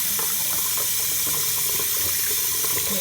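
Tap running steadily into a sink while a fidget spinner is washed under it, a constant close splashing hiss with no talk.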